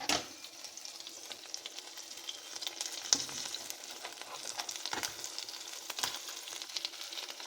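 A ranchero melt with seasoned onions and tomatoes fries on a flat griddle, a close, continuous sizzle with occasional scraping clicks and soft thumps as the food is turned, no talking.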